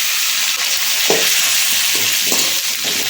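Tomatoes frying with softened onions in a pan for urad dal tomato chutney, a steady close sizzle broken by a few scraping stirs of a spoon, with no voices.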